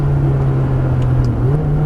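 A Ferrari F430 on a race track drones with a loud, close, steady engine note that dips in pitch partway through as it shifts down a gear, with no talk.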